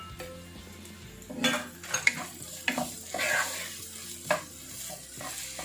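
Two big onions frying in a pan for chole, a close sizzle broken by stirring scrapes and clinks of a utensil against the pan in irregular bursts, no talking.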